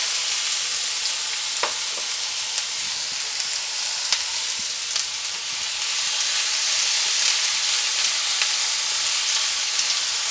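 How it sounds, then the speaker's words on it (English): Garlic and onions sizzle steadily in a hot pan on lowered heat, a constant close frying hiss with occasional small pops and no talking. "And then I'll go ahead and do a tablespoon garlic. Turn that heat down and throw in the onions."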